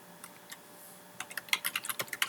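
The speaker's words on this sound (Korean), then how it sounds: "컨트롤 S 버튼을 눌러서" Computer keyboard keys pressed during a spreadsheet save shortcut, Ctrl+S, in an Excel lesson: a few sparse taps early, then a quick cluster of crisp, close clicks building toward the end, with no talking.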